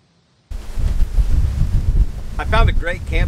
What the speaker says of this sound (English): I found a great campsite. It's super windy